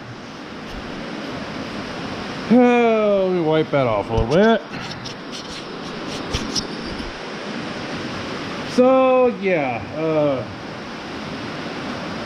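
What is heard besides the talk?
pouring rain outdoors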